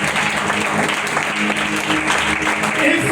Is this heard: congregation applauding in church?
yes